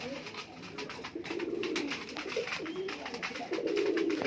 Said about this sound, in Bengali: দেখো পায়রা কত পায়রা রয়েছে দেখো ভেতরে